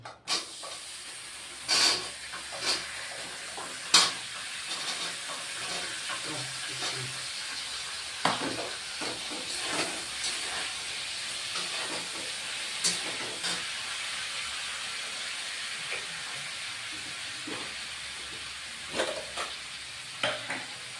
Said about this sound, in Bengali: তা আগে ভেন্ডিটাই ভেজে নিই